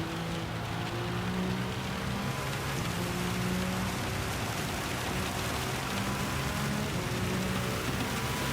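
Rain falling on the track in the racing game Gran Turismo 7, a steady hiss of rainfall and spray that holds at an even level throughout, with a low car engine tone droning beneath it.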